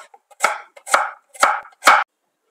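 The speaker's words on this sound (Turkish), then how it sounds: "Bir adet kuru soğanımızı yemeklik olarak ufak ufak doğruyoruz." A knife chopping a dry onion for a green bean dish, four sharp, evenly spaced cuts on a board, close and loud, with no talking.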